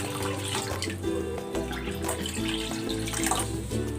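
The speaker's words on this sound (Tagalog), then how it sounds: "Lalagay na ako ng tubig." Water pouring from a tap into a pot with chicken breast for chicken sotanghon soup, a steady gurgling splash close by with no talk.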